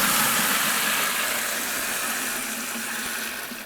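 Water rushes from a water heater's drain valve into a bucket, a loud steady gush that gradually eases off as the pressure drops.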